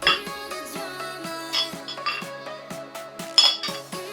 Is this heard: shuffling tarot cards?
no